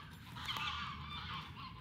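A flock of white geese honks continuously in the distance in Curitiba, Brazil, overlapping calls blending into a steady chatter under faint outdoor ambience.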